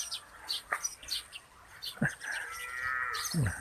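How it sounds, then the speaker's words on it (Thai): A cow being led out on a misty, dew-heavy morning gives a low, drawn-out moo near the end, while small birds chirp around it. "มีคนจูงวัวออกมาแล้ว"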